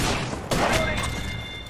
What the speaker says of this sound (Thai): มีคนยิงเสียกว่ะ